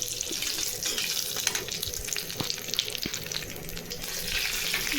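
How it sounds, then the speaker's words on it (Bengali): Dried red chillies and spices tempered in hot oil, sizzling loudly and steadily for several seconds at close range, with scattered clinks of a spoon and no voices. "বাগার দিচ্ছি"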